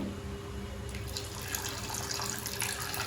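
Tap water runs into a sink as hands are washed at a family gathering, a steady splashing flow that grows louder and brighter partway through, with no talk over it.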